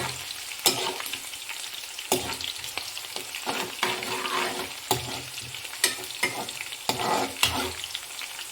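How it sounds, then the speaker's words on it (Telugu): Green chillies and dal frying in hot oil, a steady sizzle broken by repeated sharp scrapes and knocks of a spoon stirring the pan at close range. "మంచిగా ఫ్రై అయ్యేంత వరకు ఫ్రై చేసుకోవాలి ఫ్రెండ్స్"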